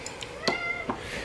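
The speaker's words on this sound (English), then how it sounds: "He's a good kitty." A pet cat meows a few times close by, short bright calls with one longer drawn-out meow in the middle, fairly loud against a quiet room with no talking.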